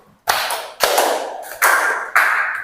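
An audience of pupils in a classroom claps in unison, four loud, crisp group claps at regular intervals, each ringing briefly into the room before the next.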